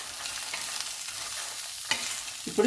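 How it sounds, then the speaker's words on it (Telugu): Dry red chillies and coconut roasting in a pan, giving a soft continuous crackle with stirring scrapes, then a couple of louder utensil knocks near the end. "ఇలా వేయించుకోవాలి అన్నీ"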